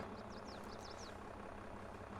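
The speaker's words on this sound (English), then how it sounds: "Check out our new tractor." Tractor engine idling in the Farming Simulator 22 video game, a steady low rumble with a few faint bird chirps near the start.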